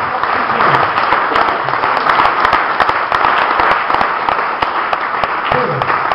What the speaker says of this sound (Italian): applaudiamo ancora questo bellissimo spettacolo